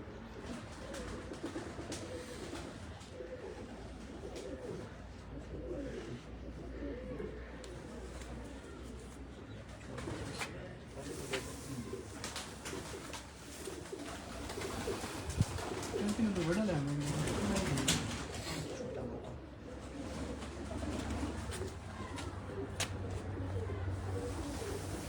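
Piplan pigeons coo softly in a rolling, repeated pattern amid rustling and background chatter, with people talking nearby.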